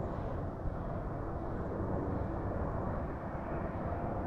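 A helicopter flies somewhere overhead near a hilltop lookout, a steady distant rotor drone and low rumble with no breaks.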